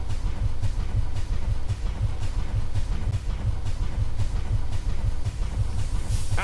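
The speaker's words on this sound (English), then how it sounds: "This train is moving now." A moving steam train in the video game Industria, a loud continuous rumble with steady rhythmic low thumps and hiss running throughout, no talking.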